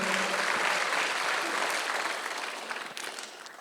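A church congregation at a Sunday worship service applauds in a dense, steady wash of clapping that tapers off toward the end, heard without talk.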